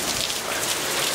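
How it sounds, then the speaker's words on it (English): Heavy rain pours down outdoors at night, a dense continuous hiss of drops hitting surfaces, loud and steady with no talking over it. "this rain is coming down"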